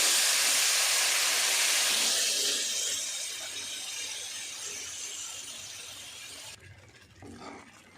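Hot water is poured into semolina and sugar roasting over low heat for halwa, giving a loud, bright sizzling hiss at first that gradually softens and fades as the liquid settles.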